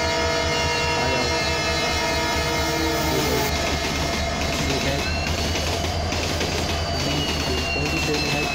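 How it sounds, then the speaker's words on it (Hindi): Train on the Tripura Sundari Express route approaching with a loud, sustained horn blast over rumbling wheels and clattering cars, close and continuous throughout. "देखिए पंडित तरफ से ट्रेन आ रही है"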